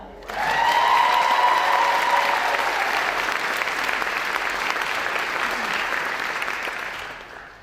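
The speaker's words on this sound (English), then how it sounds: "give another round of applause to Rome and Krista" Audience applause at a Martin Luther King Jr. Day of Service event, a full crowd clapping loudly and steadily, swelling quickly, holding, then tapering away at the end, with faint voices mixed in.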